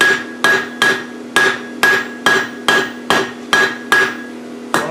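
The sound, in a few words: hammer forging hot steel on an anvil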